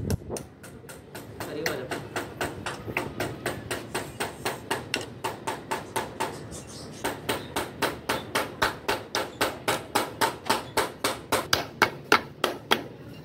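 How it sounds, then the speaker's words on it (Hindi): Hammer driving nails into wood while building a chicken cage, a long run of sharp, evenly spaced knocks that speed up and grow steadier toward the end, close by, with someone talking early on. "ये रहा दोस्तों हथौड़ा और ये रही कील"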